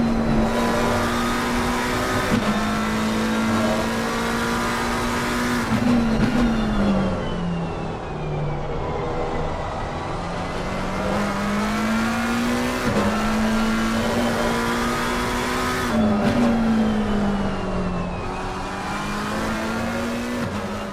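A GT race car in Assetto Corsa Competizione at the Valencia circuit is heard from the onboard dash camera, its engine droning loudly and continuously, with pitch climbing and dropping through repeated upshifts and downshifts.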